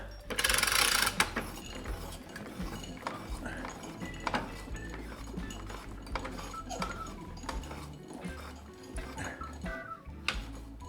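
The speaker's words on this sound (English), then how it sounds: "So I use this little pulley here." A small hand pulley rattles and clicks with ratchet-like mechanical ticks while lifting a solid jarrah log onto a hydraulic bench, with a loud burst of rattling early on, then steady clanking and creaking at close range.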